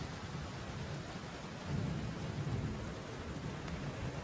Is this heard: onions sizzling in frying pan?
no